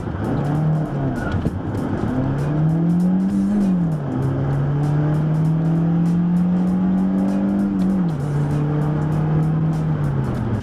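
A 2014 Honda Civic Tourer with the 1.8 i-VTEC petrol engine accelerates hard toward 100 km/h, its loud engine note climbing through the gears with two clear dips at the shifts, heard from inside the cabin over steady road noise.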